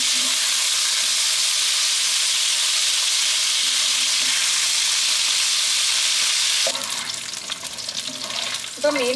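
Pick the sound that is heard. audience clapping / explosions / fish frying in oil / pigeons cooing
fish frying in oil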